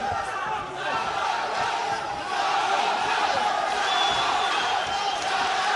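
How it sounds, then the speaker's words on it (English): An MMA fight crowd chants a fighter's name, a dense, steady roar of many voices filling the arena for the whole stretch, with the commentator's voice underneath. "The crowd are shouting Samandar."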